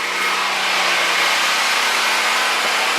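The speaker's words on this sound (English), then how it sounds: "now that I got the generator up and running" A portable generator drones steadily and loudly, its small engine humming at constant speed with a broad, noisy roar and no voices.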